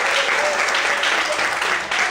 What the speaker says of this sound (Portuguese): Vamos aplaudir o Senhor com bastante alegria.